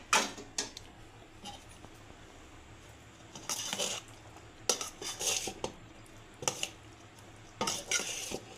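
Rice being mixed with tamarind and mustard paste for temple-style pulihora, with soft repeated clinks and scrapes of a spoon against a vessel coming in short bursts amid quiet stirring, close up and with no talking.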